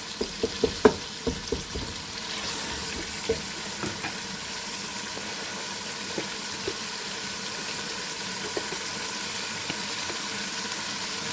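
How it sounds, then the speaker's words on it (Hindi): Tomatoes and dry spices, including roasted crushed cumin, frying in a pan for beef paye curry, a steady close hiss of sizzling with a few sharp utensil taps early on and no speech. "जब हमारे टमाटर भुन रहे हैं तो साथ ही मसाले भी भुन जाएंगे।"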